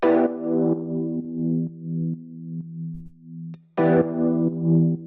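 Rhodes electric piano chords played through an auto filter set to cut the low end, two sustained mellow chords each ringing out and decaying, the second struck after a brief gap.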